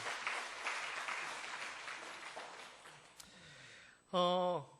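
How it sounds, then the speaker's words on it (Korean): Church congregation at a Sunday morning service claps in a soft, broad, sustained round of applause that fades gradually, followed by a short tonal sound at the end. "박수로 한번 격려해 주시면 감사하겠습니다."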